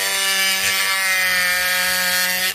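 A power tool grinds steadily into the rock matrix around a baculite fossil, a continuous whining buzz close by that holds for a few seconds before cutting off, with no talking.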